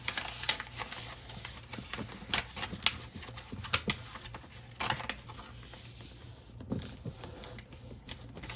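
Paper is creased and folded by hand to make a fidget toy, close, quiet crinkling and sharp taps in uneven bursts, with light rustling in between.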